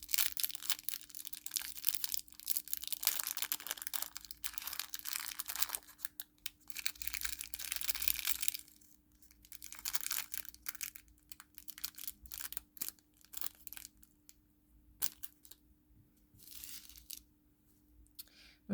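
A plastic packet of diamond painting beads is torn and crinkled open by hand, close and crisp, with bursts of tearing and crackling plastic and short pauses between them, no talking.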